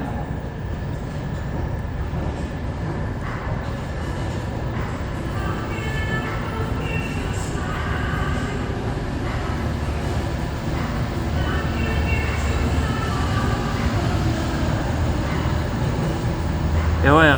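A steady, loud rumble of a Matra VAL 206 automated metro train on the Toulouse Tisséo line, with rising and falling whine and mechanical hum throughout, continuous and close.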